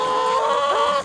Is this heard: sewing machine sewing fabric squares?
no